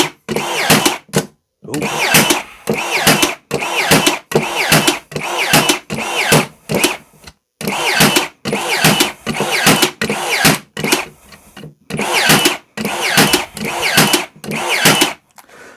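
A Worx WX841 16-gauge nail gun fires nails in bump mode, giving a rapid run of loud, sharp pneumatic bangs in quick bursts with brief pauses between groups, close up, and one short exclamation from a voice.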